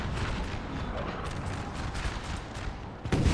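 Napoleonic battle din from Napoleon Total War at Austerlitz, a dense continuous roar of massed musket fire and distant artillery rumble, steady and loud throughout with a sharper burst near the end.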